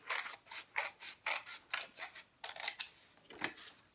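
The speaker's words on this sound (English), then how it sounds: "So you're just going to cut a smaller half circle on the inside" Scissors cut a paper headband, making a rapid run of crisp, evenly spaced snips close up with no voices.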